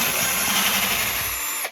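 A power drill runs continuously, boring a hole into a wooden dresser for new hardware handles, with a steady high whine that holds for nearly two seconds and then stops abruptly.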